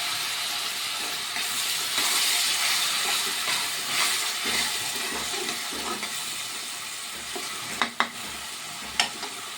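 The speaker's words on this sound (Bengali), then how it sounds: "ভেজে নিচ্ছি তারপরে এবারে মিক্সির খাওয়া জলটা একটু দিয়ে দিলাম" Masala sizzles and hisses steadily in a hot pan after a splash of water from the blender jar, a continuous close frying sound with a few brief clinks near the end.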